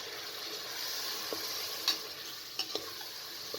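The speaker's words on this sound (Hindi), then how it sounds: "मसाले डालकर मज़ीद 1 से 2 मिनट तक अच्छे तरीके से फ्राई कर लें" Spice masala and tomatoes fry quietly in a pot over a medium flame, a soft steady sizzle with a few light clinks of stirring.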